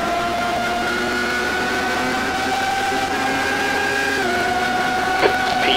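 Minardi M192 Formula One race car at Monza, a loud sustained engine drone with steady harmonic pitch held throughout, a slight pitch shift near the end as it passes, no talk.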